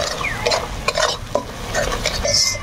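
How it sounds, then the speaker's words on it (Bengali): Spice paste with salt and turmeric is stir-fried in oil, with steady sizzling under repeated scrapes and clinks of a spoon against the pan, close and fairly loud. "ঠিক আমরা মশলাটা ভালো করে কষিয়ে নিব"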